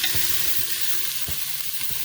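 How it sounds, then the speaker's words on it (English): Chopped onion sautéing in a hot pan, a steady close sizzle with faint stirring scrapes throughout and no voices. "let's continue sauteing the onion here"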